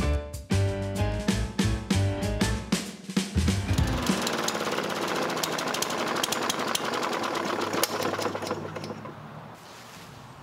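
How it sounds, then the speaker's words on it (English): A lawnmower engine running with soap in place of oil, sputtering as it starts and then settling into a loud, steady, rattling run that carries on without pause. "All right, we got our lawnmower outside."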